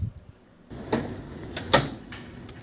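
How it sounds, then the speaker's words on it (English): A Canon printer's toner tank docking slides into place with a couple of short plastic scrapes and thuds, ending in a sharp, close click. "Slide until you hear the click."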